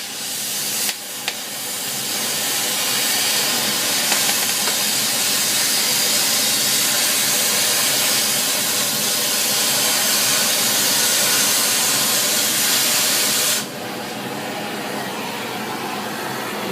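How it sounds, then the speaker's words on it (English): A scarfing torch running at 30 psi gives a loud, steady, broad hiss of stretched-out flame that holds for about thirteen seconds before dropping to a lower rushing roar. "Now watch the flame stretch out and I'll back away."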